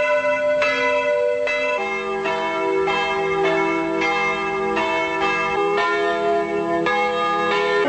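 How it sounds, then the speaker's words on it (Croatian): Church bells across Croatia toll in mourning at the 1999 funeral of the country's president, several large bells striking in a slow overlapping rhythm, loud and ringing without any voices. "Crkvena zvona diljem Hrvatske, mnoga teško stradala u domovinskom ratu, tužnom su zvornjavam na posljednji počinak ispratila predsjednika Republike"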